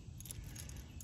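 Keys jangling faintly as a key is handled to open a step van, a brief light metallic clinking with no talk.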